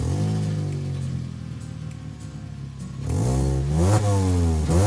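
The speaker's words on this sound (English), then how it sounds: "So I'm just going to start up the car and show you what it sounds like now." A car with a leaking exhaust gasket starts up loudly and runs with a rough, uneven idle, then revs up and down in repeated surges near the end.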